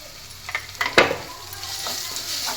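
Ginger garlic paste sautés with softened tomatoes in a pan for egg salna, a close, steady sizzle with brief scraping stir strokes and a couple of sharper clicks near the middle.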